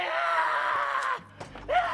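A man screams hysterically after being knocked on the head: a loud, sustained strained cry lasting over a second, followed by a short pause and a couple of quieter rising vocal bursts.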